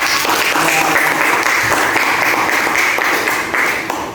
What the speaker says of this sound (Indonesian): beri tepuk tangan untuk Nadifa